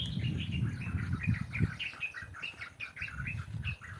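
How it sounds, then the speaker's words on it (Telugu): Small birds chirp in quick, repeated bright calls near a tree beside an old water tank, over a low murmur of rustling and outdoor background noise. "పిట్టలు మొత్తుకుంటున్నాయి."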